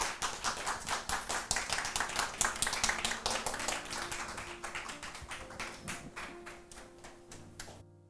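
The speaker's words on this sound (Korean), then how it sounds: "우리 목사님 나오실 때 크게 박수로 환영해 주시면" A church congregation claps to welcome a pastor at a Thursday weekday service, a steady dense patter of many hands lasting several seconds and slowly fading, with no talk over it.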